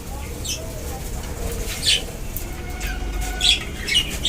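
Pet budgies flutter and flap their wings in a dimly blue-lit colony cage, soft wingbeat bursts recurring over a steady low hum, with a few faint chirps and squawks.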